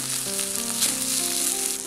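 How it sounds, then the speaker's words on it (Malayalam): Rice frying in hot ghee for a dum biryani gives a steady, close sizzle with a faint hum underneath and no talking. "അരി നെയ്യിലിട്ടിട്ട് ഒന്ന് നന്നായിട്ടൊന്ന് വറുത്തെടുക്കണം"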